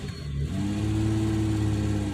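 A Toyota Camry engine, limited to 2,000 RPM, revs up from idle to a steady held drone, close and fairly loud with an even hum.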